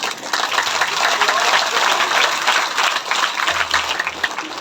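An audience at a Hindu religious discourse (satsang) claps together in a loud, sustained burst of dense applause lasting the whole stretch, tapering slightly near the end.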